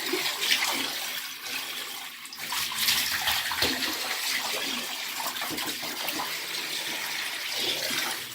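Water rushes and splashes out of a drained home water heater tank as it is rinsed, a loud, continuous close gushing flow with small surges and no talking.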